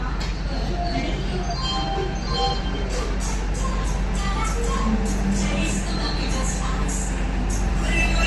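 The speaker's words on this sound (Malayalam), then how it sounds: "അങ്ങനെ ഇന്നത്തെ നമ്മളുടെ ട്രെയിൻ യാത്രക്കുള്ള ഡെമു ട്രെയിനാണ് ഇതായി നിർത്തിയിട്ടിരിക്കുന്നത്." A Salem–Vriddhachalam DEMU train stands at platform one of Salem railway station, its diesel engine idling in a low continuous rumble under close, steady talk and occasional light platform clinks.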